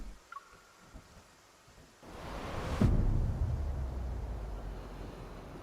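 Steady rain pours in a game scene in Love and Deepspace, a faint hush that swells into a louder, dense wash with a low rumble partway through, continuing without voices.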